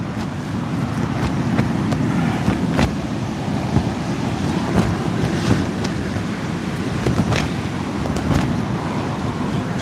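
Steady wind gusts at sea along the coast during a sea fishing trip, with a dense, continuous roar of breeze and surf buffeting the microphone and no speech.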